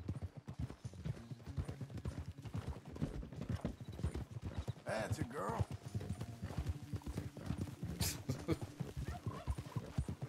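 A horse's hooves clip-clop steadily in Red Dead Redemption 2, a continuous rhythmic plodding close by, with a brief whinny and someone speaking over the hoofbeats.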